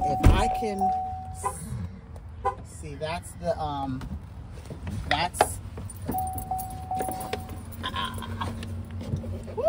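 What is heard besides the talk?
SUV third-row seat latch trying to open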